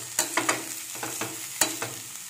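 Cabbage fries in oil with a steady sizzle. A spoon stirs it in a few distinct scraping strokes at an irregular pace, clear and close, and no one talks.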